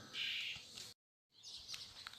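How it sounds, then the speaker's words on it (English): Faint birds chirp in the distance, high tweets broken by a brief silent gap before the chirping resumes. "I don't know if you can hear the birds."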